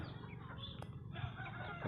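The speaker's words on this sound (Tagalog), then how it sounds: "papakain ako sa aking mga manok." Chickens cluck and chatter nearby as they are fed, against a steady background din, with a brief higher call mixed in.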